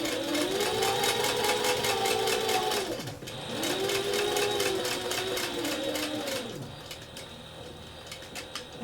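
A sewing machine stitches a cork envelope wallet in two steady whirring runs of rapid needle strokes, each about three seconds long, with a brief pause between them and slower, lighter stitching at the end.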